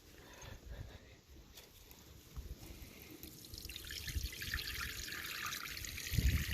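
Water rinses over a griddle grill, a soft trickle and splash that grows gradually louder and rougher as it runs down the surface, heard close up without talk.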